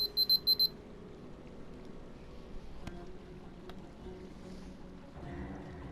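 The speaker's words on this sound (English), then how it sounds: "sorry about the beeping." Sharp electronic alarm beeping in a room in the fantasy role-playing game Divinity: Original Sin 2, a quick burst of about five loud beeps at the start, then fading into a low, murky ambient hum.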